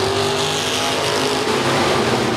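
Stock cars at US 30 Speedway roaring away at the start of a race, a loud continuous rumble of many engines layered together with steady harmonic drone, no talk.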